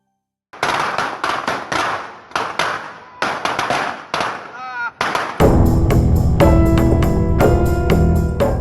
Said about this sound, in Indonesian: Puluhan petasan pun dibakar mulai siang hingga malam hari.